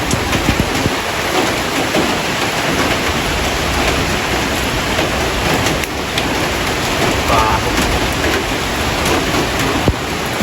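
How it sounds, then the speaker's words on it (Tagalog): Heavy rain falls continuously outdoors, a dense and loud steady hiss with no breaks, drowning out any other detail. "Muulan dito, maulan."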